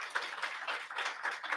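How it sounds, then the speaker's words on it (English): Audience applause at a county board of education candidate forum, a modest room of hands clapping steadily and fairly faint, with no voices over it. "And a round of applause for these guys tonight."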